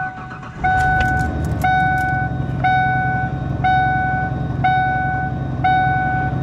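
A truck engine runs at a steady low idle, its rumble constant beneath a repeating two-tone beep that sounds about once a second from start to finish.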